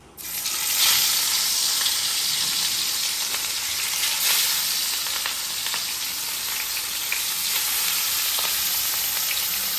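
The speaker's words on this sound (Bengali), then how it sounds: "এই হলো শাপলা ভাজা" Water lily stems fry in a pan with a loud, steady sizzle and hiss that runs unbroken from start to finish, with no voices.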